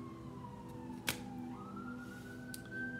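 Emergency vehicle sirens outdoors, a single wailing tone sliding down then rising again, fairly distant and moderately quiet, with a sharp click or knock partway through and no speech.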